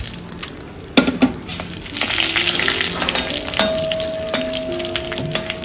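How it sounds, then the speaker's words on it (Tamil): Dried red chillies fry in a pan for tamarind rice, sizzling steadily and close. Sharp clinks and knocks come from a utensil hitting the pan, one loud hit near the start and more scattered hits later. "லைட்டாக செவக்க விடுங்க ரொம்ப கா கருவை விடாமல் லைட்டாக செவக்க விட்டால் போதும்"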